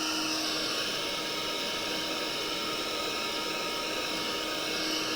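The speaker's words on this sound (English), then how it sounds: "Let me get the hairdryer on this" A steady, close whooshing drone of a hair dryer drying acrylic paint blows continuously with a faint high whine, unchanging throughout and with no talking.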